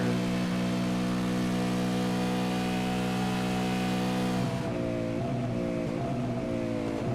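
A V8 Supercar race car in a racing video game at Daytona drones loudly at steady revs, then drops pitch with a short, wavering burble as it shifts down.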